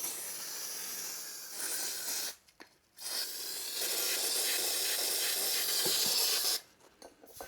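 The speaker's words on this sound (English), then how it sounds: "I'm just going to use some brake clean." Brake cleaner sprays from an aerosol can onto a Moto Morini motorcycle's filter element in loud, close, sustained hissing bursts, with a brief pause between the first and second long spray and a short one at the end.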